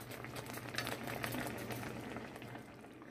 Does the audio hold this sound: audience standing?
no